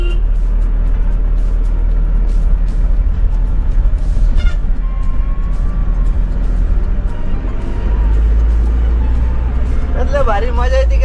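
A new Mahindra Maxx AC pickup driving on a road, its engine and tyre noise a steady, loud drone throughout, with a brief higher squeal near the end.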